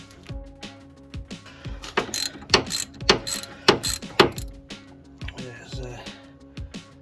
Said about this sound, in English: unbolt the caliper.